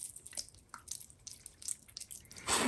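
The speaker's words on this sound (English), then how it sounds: "now I'm just going to go and water the surface of the soil" Water drips and spatters onto the soil surface of a potted butterwort in small, irregular splashes, close and fairly soft, ending with a brief louder pour.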